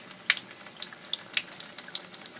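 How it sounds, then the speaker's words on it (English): Water drives a small homemade water wheel generator, making a faint, close, irregular splashing and trickling with quick spattering drops throughout. "the force of the water is spinning the water wheel, which in turn spins the coils inside the generator"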